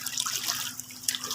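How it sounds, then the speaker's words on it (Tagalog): Floodwater flows and splashes at a marine fish hatchery station, a continuous close, hissing rush of moving water with small bursts of spatter, with no talking. "Wow, grabe ang baha."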